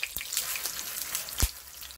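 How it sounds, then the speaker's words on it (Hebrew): Matzah rolls stuffed with homemade chicken-thigh shawarma and onion fry in a pan, giving a steady close sizzle with a couple of sharper pops and crackles. "אז זה בערך 4 דקות של טיגון מכל הצדדים"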